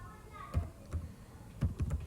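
Someone types on a computer keyboard while entering text in Microsoft Word: a few isolated keystrokes, then a quick cluster of close, crisp key clicks.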